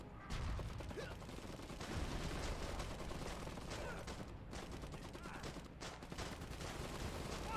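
Heavy, sustained gunfire and battle noise from the dieselpunk post-WWI mech tactical game Iron Harvest, with dense overlapping shots rattling continuously for several seconds.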